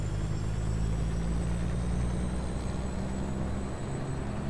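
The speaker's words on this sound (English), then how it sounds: "Hear a helicopter" A low, continuous helicopter rotor drone from a truck-driving video game rumbles throughout, steady and moderately distant, with no voices.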